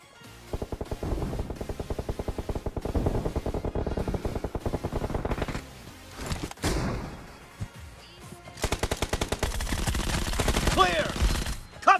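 Rapid bursts of automatic gunfire from the mobile shooter BGMI in a 4 vs 4 team deathmatch, with rhythmic volleys, brief pauses and another loud burst near the end, and a player talking between them.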